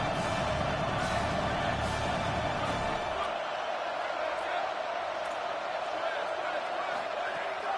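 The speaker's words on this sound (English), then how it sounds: "The Buckeye crowd alive on 3rd down" A stadium crowd roars on third down at an Ohio State Buckeyes football game against Oregon, a dense sustained wall of cheering that drops slightly in low rumble partway through but stays loud throughout.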